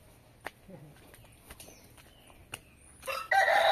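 Chickens and a rooster in a newly finished henhouse give a few soft clucks and scattered thumps, then a louder, dense burst of flapping and squawking rises near the end.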